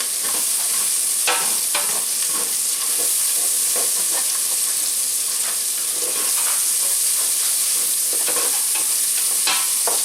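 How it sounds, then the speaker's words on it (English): Sausage for chilli frying in a pan, a loud, constant sizzling hiss with frequent scraping stirs as the pieces are kept moving and the browned bits are lifted. "I'm keeping this moving for the most part, because I don't want them to stick and burn. And I'm scraping that flavor up."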